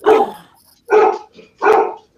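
Dogs bark loudly at a delivery truck, three strong bursts close by with short pauses between them.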